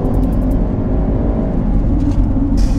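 A Land Rover Defender 110 P400 engine revving hard near 6000 rpm while driving, a loud, steady, dense engine roar heard from inside the vehicle, with no talk over it.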